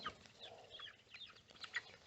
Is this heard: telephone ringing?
no